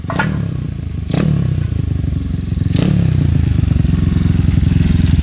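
A Honda Wave 125 motorcycle engine, started for the first time after restoration, sputters with a few loud bursts, then settles into a steady, rumbling idle, close and loud, with no speech.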